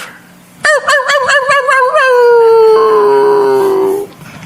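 A voice imitates a neighbor's dog howling on a porch: one loud, long, wavering howl that rises after a few stuttering yelps and slowly slides down before stopping, close and alone.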